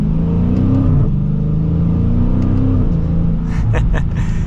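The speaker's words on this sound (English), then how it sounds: "All right guys, so we are setting off now in the Scat Pack." A 2023 Dodge Challenger R/T Scat Pack with the 392 V8 pulls away from inside the cabin, its engine droning loud and steady with a rising pitch as it accelerates, then a shift and a brief lighter clatter near the end.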